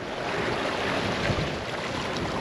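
Steady roar of wind and rushing waves aboard a sailboat crossing the Pacific in 15–20 knot winds, loud and continuous with no talk.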